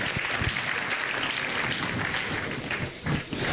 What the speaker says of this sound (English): Let us clap for the head teacher and her team.